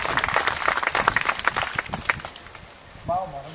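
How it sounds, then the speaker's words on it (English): A crowd at an outdoor birds-of-prey demonstration gives a round of applause, with dense, lively clapping that fades out toward the end before a voice speaks. "Perhaps you'd like to give my apprentices a round of applause for the work that they do."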